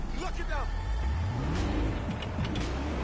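A car engine in the video game Watch Dogs: Legion rumbles low and steady in the background while voices talk over it throughout.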